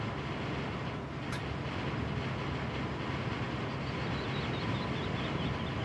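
A trailer in the RoadCraft video game rattles while rolling slowly forward, giving a continuous harsh, gritty clatter at a steady level, like a can shaken in a cement mixer, with no one talking.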